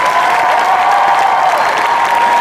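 A large Comic-Con crowd applauds steadily for the Edge of Tomorrow film panel with Tom Cruise and Bill Paxton, a dense, loud, continuous wash of clapping with a few faint cheers mixed in.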